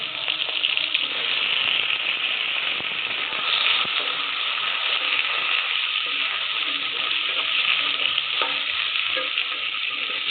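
Cut potatoes and onion fry in hot oil in a pan, a steady loud sizzle that holds for the whole stretch, with faint stirring scrapes underneath and no talking.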